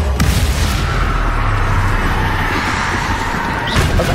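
Spell blasts in Hogwarts Legacy, Bombarda and Confringo explosions during combat, a dense, loud rumbling boom that fills the whole stretch, with sharper impacts at the start and end.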